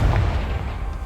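A Confringo blasting spell in Hogwarts Legacy bursts as a loud, heavy explosion, a deep booming rumble that fills the whole moment up close with no voices.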